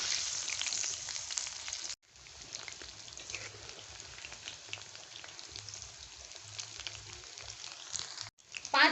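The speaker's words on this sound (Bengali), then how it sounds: "আরো 5 মিনিট সময় নিয়ে এইগুলোকে ভেজে নেব।" Chicken pakoras deep-fry in hot oil with a steady, fine crackling hiss that drops out briefly twice. A faint low murmur sits underneath.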